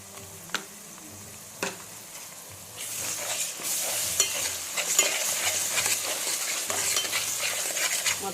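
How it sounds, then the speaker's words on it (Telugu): Onions coated with ginger garlic paste are stirred in a hot pan for mutton curry. After a quiet start with two soft clicks, a loud, even sizzle rises and holds, dotted with scraping spoon strokes. "మొత్తం ఆనియన్స్లో మొత్తం కలిసేటట్టు మొత్తం మిక్స్ చేసేయండి"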